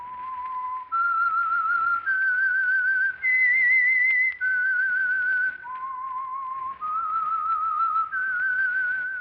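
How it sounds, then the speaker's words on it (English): The whistled theme of the 1947 radio program The Whistler: a clear, solo tune of sustained notes stepping up and down in pitch, close and steady with short breaths between phrases. "That whistle is your signal for the Signal Oil Program"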